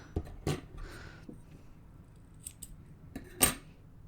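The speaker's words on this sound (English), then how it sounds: "So I'll just cut that now." Scissors snipping knitting yarn, a few short close cuts spread across a quiet moment, with soft handling rustle between them.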